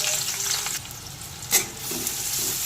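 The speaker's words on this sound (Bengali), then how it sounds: "আবারও দিয়ে দিলাম কিছুটা সাদা তেল দিয়ে দেবো রসুন কুচি আর পেঁয়াজ কুচি" Chopped garlic and onion hiss and crackle in hot white oil in a pan, a steady close sizzle with a sharp spatula scrape or two midway and no talking.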